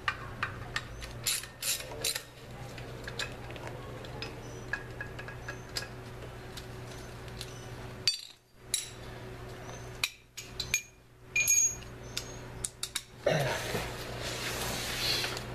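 Wheel bolts on a 1985 Toyota 4x4 pickup are tightened with a hand wrench, quiet clicking ratchet strokes in uneven bursts, close up, with metallic taps and brief pauses between turns.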